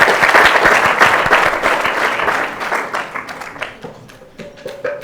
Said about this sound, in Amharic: ሀሌታዋ አጨብጭቡለት በደንብ።